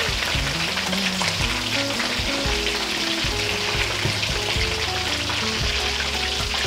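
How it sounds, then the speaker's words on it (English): Steady, dense sizzling of fish frying in a hot pan for an Indian-style fish masala curry, continuous crackle and hiss with a low hum underneath, close and fairly loud. "I'll give it about 2 more minutes frying away"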